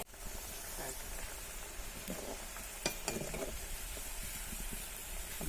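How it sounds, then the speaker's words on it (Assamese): Rolled wheat-flour biscuit dough fries in refined oil, giving a constant hiss and sizzle with scattered crackles and a few sharp clinks of a utensil, while a voice speaks intermittently over it. "এতিয়া ৰিফাইন তেলত আকৌ মই এতিয়া ভাজি লৈছোঁ"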